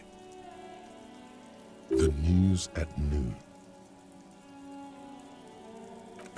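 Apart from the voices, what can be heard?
rain falling in video game Disco Elysium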